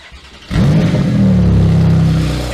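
A Porsche 991 GT2 RS engine starting up close, a sudden loud crank and catch into a rising rev, then settling into a deep, steady rumbling idle.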